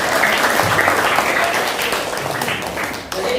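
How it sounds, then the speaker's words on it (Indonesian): A classroom gives a student a warm round of applause, dense clapping from many hands that holds steady for a few seconds before tapering off. "Oke, beri aplaus buat Supina."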